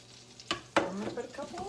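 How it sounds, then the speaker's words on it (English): French toast slices go into hot butter in a skillet at about 325 degrees, two sharp clatters followed by a bright, steady sizzle up close. "Now I've got hot butter in the skillet, about 325,"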